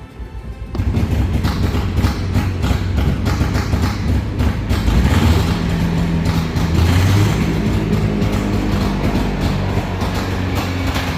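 A 1937 Auto Union DKW F7 roadster's two-stroke engine cranks and catches, then settles into a loud, steady, buzzing idle close by with a slightly uneven throb.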